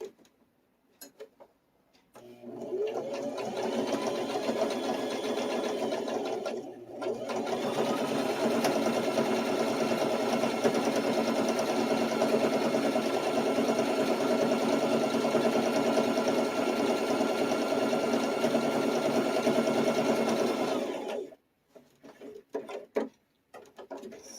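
Sewing machine stitching a large X through fabric for a bowl cozy, a steady close whirring run of about twenty seconds with one brief pause partway through, then stopping.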